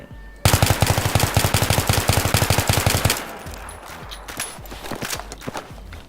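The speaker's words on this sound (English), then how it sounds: "Now we're going to control the recoil while using burst firing." An M16A3 rifle fires in rapid controlled bursts in a video game, a loud string of sharp, evenly spaced shots lasting a few seconds. Then the firing stops, leaving quieter footsteps and scattered thuds.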